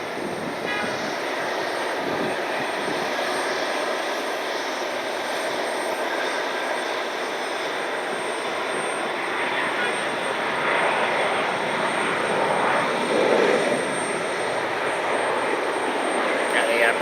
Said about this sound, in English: 737 MAX 9 inbound from Newark.